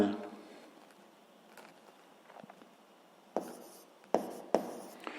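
A pen writes a calculation on paper, giving soft scratchy strokes up close, followed by a few sharper taps and scrapes near the end, with faint talking at the very start.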